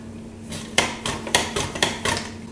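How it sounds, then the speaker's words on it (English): A kitchen mandolin set to about a quarter-inch slices, with a steady run of six or seven crisp, rhythmic strokes in close succession over a quiet background. "Now I'm gonna get this mandolin here, and I've got it adjusted for about a quarter inch"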